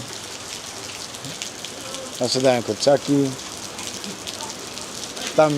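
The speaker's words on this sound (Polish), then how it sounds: "I leje deszcz." Heavy rain pours steadily over an outdoor market in the Philippines, a broad continuous hiss filling the scene while someone speaks briefly partway through.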